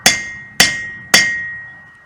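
A hammer flattens a metal band on a cooper's hoop, three loud, evenly spaced ringing strikes close up, each one sustaining a metallic tone.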